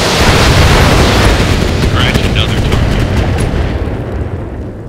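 Missile volley explosions from mechs in Battletech: a loud, dense rumbling roar of overlapping booms and bursts that fades slightly toward the end, with a voice speaking over it.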